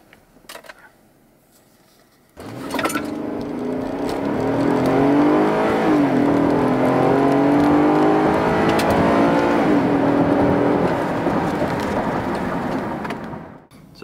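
After a quiet idle, a 2014 Cadillac SRX AWD's 3.6 V6 engine bursts into a hard, sustained acceleration in sport mode with traction control off, rising through several gear changes before easing off near the end.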